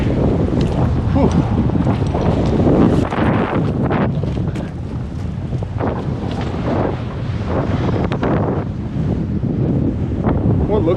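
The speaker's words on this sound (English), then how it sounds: "the wind is right in my face, so I'm struggling to move" Strong wind buffets the microphone while packrafting on a river, a steady loud roar with gusty surges and splashing water mixed in, close and continuous throughout.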